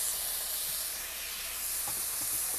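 Worcestershire sauce hitting a hot pan for cheeseburger mac gives a loud, steady broadband hiss of sizzling steam that fills the whole moment with no voices.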